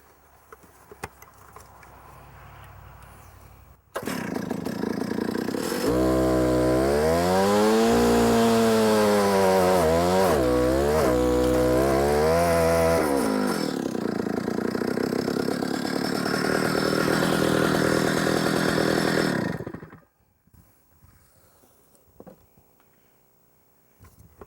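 An Alpine Magnum portable stump grinder roars to life after a quiet start and grinds loudly into a stump, its engine pitch rising and falling under load for about fifteen seconds before it cuts off abruptly.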